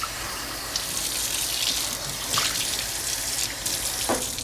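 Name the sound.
running tap water into a measure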